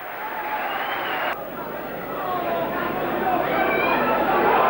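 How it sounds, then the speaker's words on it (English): Crowd noise at a 1986/87 Lancashire Cup rugby league match between St Helens and Carlisle, a steady roar of chatter and cheering that builds toward the end, with a commentator talking over it. "listen to this crowd"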